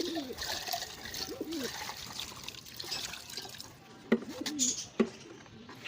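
Water trickles and splashes while a clay bird pot is rinsed, running steadily under a man's speech, with two sharp knocks near the end.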